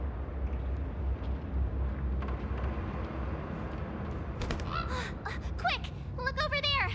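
A bird caws several times in the Honkai: Star Rail video game, harsh cries that come in bursts near the end over a steady low background hum.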